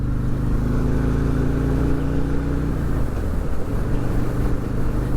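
A 2022 Harley-Davidson Road King Special with a 114 engine cruising at highway speed, a steady loud low engine drone with road and wind rumble that holds even throughout, no voices.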